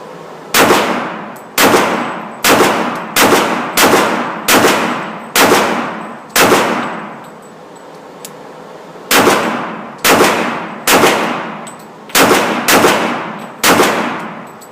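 HK and Glock pistols fire at a chest-area target in two rapid strings of sharp, loud shots, about eight cracks each with ringing decay, separated by a brief quiet pause.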